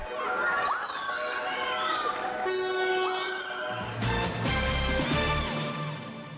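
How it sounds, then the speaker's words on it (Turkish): Hundreds of Beşiktaş football fans greeting the team at an airport, loud crowd chanting and cheering with car horns honking, busy and continuous, voices mixed throughout. "Beşiktaş kafilesine havalimanında yüzlerce taraftar çiçek ve tezahüratlarla karşıladı"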